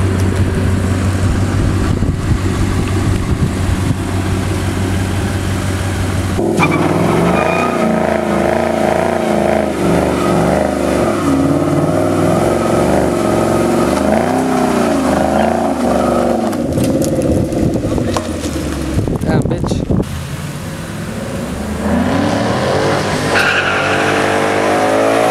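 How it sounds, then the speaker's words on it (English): A new Ford Mustang revs hard, doing donuts and drifts, loud and close, with rising and falling engine pitch, screeching tires and skids running throughout. "You guys saw we did a few little pulls in the new Mustang, some donuts, some little drifts."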